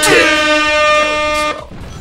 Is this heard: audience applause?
no